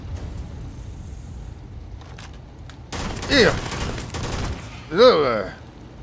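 Bursts of rapid gunfire ring out during a firefight in a cave in the video game Starfield, quiet at first, then loud volleys around the middle and near the end.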